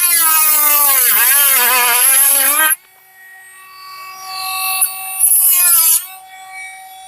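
A piece is trimmed with a power tool during a trailer hitch installation on a 2004-2010 BMW X3 E83, giving a loud, wavering high whine for a few seconds, then a quieter stretch and a second short burst of cutting.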